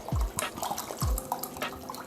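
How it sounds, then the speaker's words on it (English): White pineapple rum glugs into a drink in a few quick liquid bursts, close and moderately loud, with no talk. "Then I'm going to put some pineapple rum in here."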